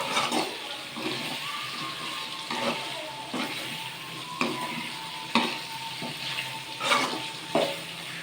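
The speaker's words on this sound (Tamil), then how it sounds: "நான் வந்து கருவாடை இந்த எண்ணெயிலே போட்டு வதக்க ஆரம்பிச்சிடுவேன்" Dried fish frying in oil in a pan with eggplant, a continuous close sizzle broken by regular scraping strokes of stirring, roughly one every second, with no talking.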